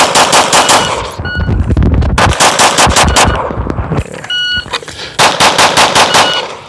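Rapid volleys of Glock pistol shots ring against steel targets, fired in three fast strings separated by short pauses, loud and close with metallic pings between bursts; the pistol carries a Holosun 507 Comp sight and thumb-rest setup.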